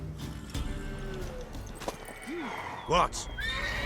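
A mare whinnies in The Witcher 3 game world, a rising and falling neigh near the end, with hooves clopping and game voices speaking around it.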